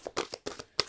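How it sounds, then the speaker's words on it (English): Tarot cards are shuffled up close in a quick, faint burst of papery riffles and slaps, with several soft flicks over under a second. "Last shuffle."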